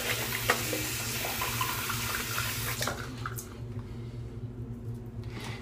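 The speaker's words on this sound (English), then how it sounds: "Rinse my hands." Tap water runs loudly into a sink as hands are rinsed during an old-school safety-razor shave, the hiss stopping abruptly partway through and leaving faint drips and handling sounds.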